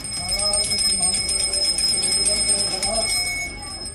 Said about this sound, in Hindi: घंटियां बज रही हैं।